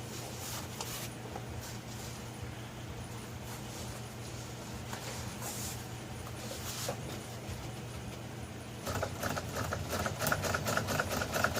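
An upholstery sewing machine stitching golf cart upholstery, a rapid mechanical chatter running steadily at close range, getting louder and busier near the end.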